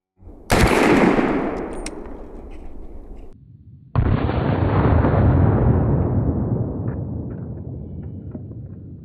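A gun fires at spray paint cans outdoors: a loud blast rings out and decays, and after a brief lull a second sharp report hits and rolls on in a long, fading echo.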